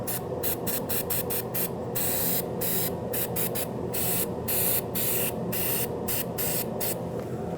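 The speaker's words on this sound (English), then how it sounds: "spray some NEC so it doesn't rust in the future." Short bursts of anti-rust aerosol spray on a Ford Ranger's driveshaft area hiss in an irregular rhythm, many quick squirts with brief gaps, close by over a low background hum.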